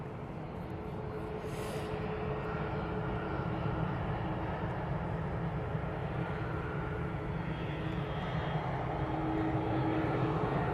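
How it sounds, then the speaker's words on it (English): A Jet2 Boeing 737 departing Manchester Airport, a broad steady engine roar with low rumble and airy hiss holding at a constant level throughout, distant and alone without talk. "737 is off to Antalya for Jet 2"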